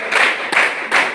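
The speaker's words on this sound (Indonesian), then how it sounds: "Oke, tepuk tangan 5 kali." A group claps hands together in unison, three sharp, evenly spaced bursts heard close up in quick succession.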